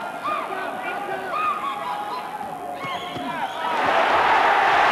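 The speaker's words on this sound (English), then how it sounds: "crowd willing Honeyghan to get it over inside the distance" Boxing crowd at the Lloyd Honeyghan vs Maurice Blocker fight roaring and shouting, a steady distant hubbub with whistles and chatter that swells louder toward the end.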